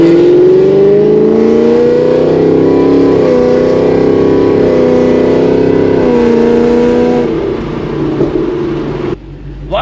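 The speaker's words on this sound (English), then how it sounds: "the long tube headers and the exhaust on this car" Ford Mustang S550 fitted with long tube headers and an aftermarket exhaust, revving loud and close in one long rising and holding pull that fades near the end and cuts off sharply.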